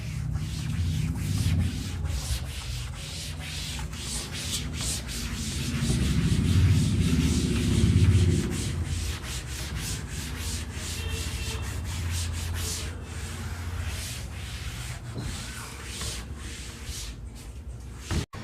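A board is wiped clean during a chemistry lecture with long, continuous rubbing strokes, close and steady for about eighteen seconds, ending in a single sharp knock, with no talking.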